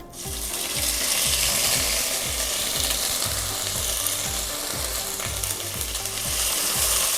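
A ginger, chili and cumin thecha sizzles loudly in hot ghee, a dense steady frying hiss with rhythmic scraping stirring strokes repeating close by throughout.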